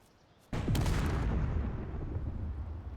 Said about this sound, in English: Ion, which is this one that just fell and exploded, is meant for space